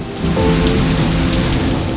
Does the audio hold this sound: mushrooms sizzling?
no